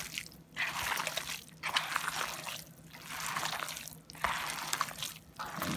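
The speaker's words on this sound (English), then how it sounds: "Once you get it all mixed like this, it's almost ready to mold and bake." Hands squish and knead a moist meatloaf mixture with ketchup, Worcestershire sauce, peppers and seasonings, giving wet, sticky squelches in uneven waves that swell and fade, close and alone with no talking.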